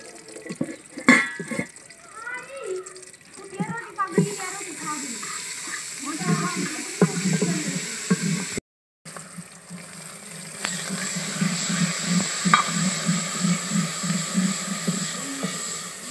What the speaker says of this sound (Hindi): उसी ही देगची में हम अब मसाला भुनेंगे